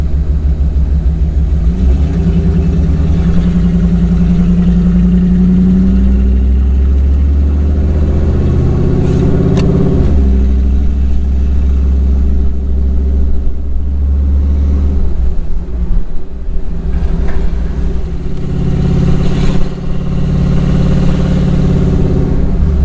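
A loud Jeep ZJ engine rumbles close by, rising and falling as it's revved, with a deep, continuous throaty drone throughout.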